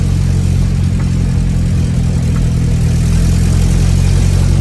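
Classic Mini car engine with 37 horsepower idling, a loud, steady, close low rumble throughout with no talk.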